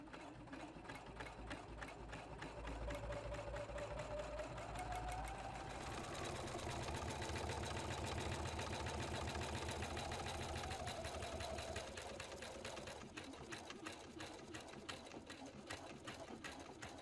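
A Husqvarna Viking Platinum Plus sewing machine stitches along a pocket edge, its rapid needle strokes forming a steady, loud mechanical rattle that runs continuously, slowing briefly near the end.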